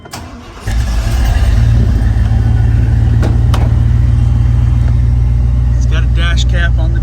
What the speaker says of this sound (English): Truck starts easy and runs good.